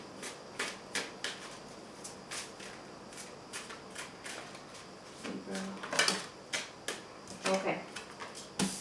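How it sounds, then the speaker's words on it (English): Tarot cards are shuffled by hand in quick, even riffles of crisp papery flicks, close and fairly loud, with a brief low murmur of talk partway through. "Let me just give one more shuffle."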